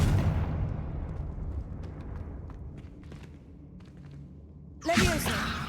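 Confringo explosive spell cast in Hogwarts Legacy: a deep booming blast fades into a long rumbling tail, followed by a sharp whooshing burst near the end.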